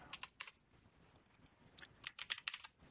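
Short bursts of close, quiet key clicks on a computer keyboard while entering a username during Ubuntu setup, with a brief pause between the bursts.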